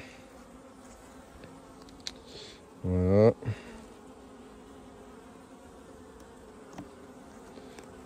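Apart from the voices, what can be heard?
honey bees buzzing around open hive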